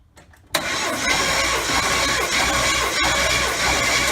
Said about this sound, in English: Okay, we got a crank, but I do kind of hear something.